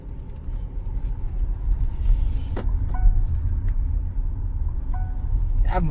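A Tata Sierra EV electric car rolls along with a steady low road rumble and faint mechanical clicks, a quiet cabin hum without speech.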